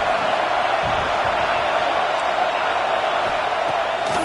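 Stadium crowd in College Football 26, Wake Forest vs Wisconsin, keeps up a steady, loud roar with no breaks for the whole stretch.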